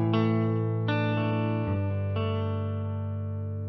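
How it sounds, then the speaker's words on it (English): Clean electric guitar played through a Chase Bliss Automatone preamp: several sustained strummed chords ring out one after another, each struck clearly and left to decay slowly, alone without talk. "here's my clean tone"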